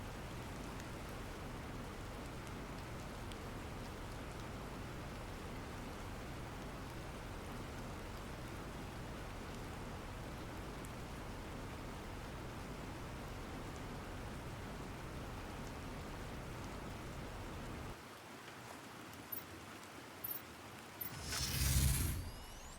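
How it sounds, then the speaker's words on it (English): Steady rain in the video game The Planet Crafter, a dense even hiss that runs for most of the clip before dropping out near the end, followed by a brief louder burst. "I have found that it actually rains more during different stages"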